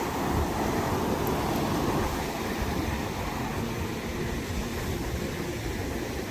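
Atlantic Ocean surf washes in at Fort Fisher beach, a constant broad roar of breaking waves mixed with wind, steady and fairly loud throughout with no voices.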